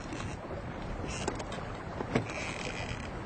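A traditional felucca sails up the Nile, with soft water wash and wind rustle around the hull and a few faint knocks of wood or rigging, heard alone without talk.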